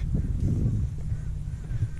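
Geese honk in low, throaty bursts close by, several calls overlapping in an uneven run against a muddy outdoor background.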